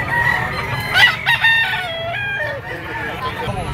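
A white-legged Boston Sweater gamefowl bull stag crows once in a backyard breeding yard, a loud nearby cock-a-doodle-doo with a few clucks and faint voices around it.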